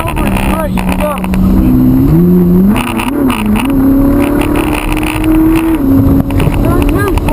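Ferrari 458 Italia V8 accelerating on Hallett Motor Racing Circuit, heard from inside the car: a loud, rising engine note climbs through the gears with brief dips at shifts, while a person talks over it.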